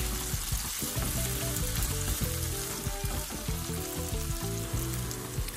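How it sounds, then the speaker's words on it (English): Chopped garlic sizzles and fries steadily in a hot pan for sardine spaghetti, a loud, continuous crackle with occasional stirring clatter throughout. "After about 2 minutes, I'll go ahead and add my chopped garlic."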